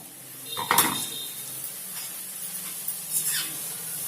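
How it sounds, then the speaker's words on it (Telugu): A metal lid clanks as it is lifted off a pot of potato and cabbage curry, followed by a soft hiss of steam and faint rattles. "ఒకసారి ఇది మూత తీసి చూద్దాము"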